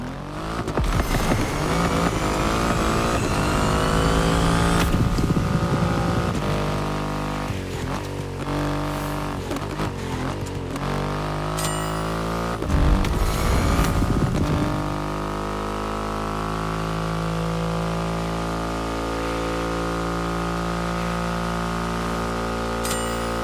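Triumph motorcycle with a 2.5-liter engine ridden in The Crew Motorfest, its loud sustained engine drone rising and falling through revs and gear changes, with sharper bursts midway, steady and close throughout.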